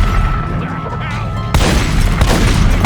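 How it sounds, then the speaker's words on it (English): Shotgun blasts in The Godfather game land as a heavy boom amid a rumbling firefight, with someone talking over the noise. "I know these shotguns are ripping us up though."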